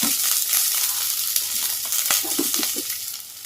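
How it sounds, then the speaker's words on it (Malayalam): Green beans and onions sizzle in hot oil in a pan for a Kerala theeyal, a close, continuous crackling hiss with a few soft stirring knocks. "എണ്ണ ഒഴിച്ച് ചൂടായി വരുമ്പോൾ പച്ചപ്പയറ്, സവാള, ഉള്ളി ഇതിനകത്തേക്ക് ഇട്ട് കൊടുക്കാം."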